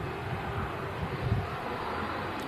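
A TUI Boeing Dreamliner climbs away and banks left after departing runway 05 Left at Manchester Airport, a steady distant jet roar with wind buffeting, no voices over it.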